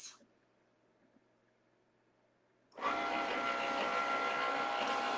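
After a near-silent pause, a Cricut Maker cutting machine starts a pass through basswood with a sudden steady mechanical whir and hum, close and continuous, with no talking.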